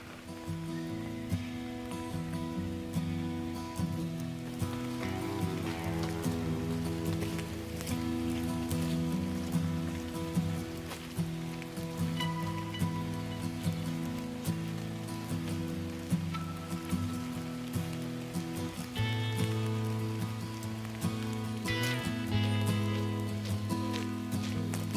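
Steady rain falls in Sherwood Forest, a continuous dense patter on the surface that holds at a fairly quiet level for the whole stretch, with no voices.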